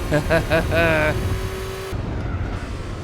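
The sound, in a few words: race car engine in Gran Turismo 4 video game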